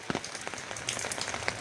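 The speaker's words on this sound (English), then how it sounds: "It's raining bit moderate." Moderate monsoon rain falls outdoors onto wet plants, a soft, uneven patter of scattered drops with a few sharper nearby splashes over a faint background wash.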